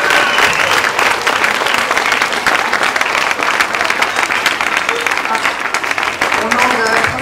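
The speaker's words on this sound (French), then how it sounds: "Je vous demande, mesdames, messieurs, d'applaudir très fort Laetitia Broche-Baron pour Ciao Papy." Loud, dense audience applause at an award ceremony for the Prix Chronos, a sustained wash of many hands clapping close and steady throughout with no break.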